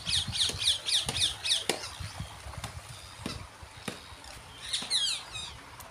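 Birds squawking around a water spot built for them at a temple, a run of sharp repeated calls close by at the start, scattered cries in between, and another burst near the end.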